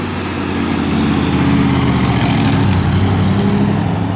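A 1966 Chevrolet Impala convertible engine idles at about 500 rpm with a steady, deep, throbbing rumble, close and even, with no speech.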